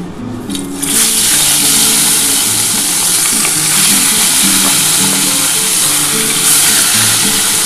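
Small bhola fish frying in hot oil, a loud continuous sizzle and crackle close up that swells after a quiet start and keeps bubbling steadily.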